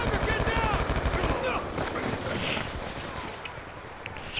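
Rapid automatic gunfire from a fast-firing weapon in Black Ops 2 multiplayer rattles in dense bursts that are loudest early and thin out later, with game effects in the mix and a voice talking over it.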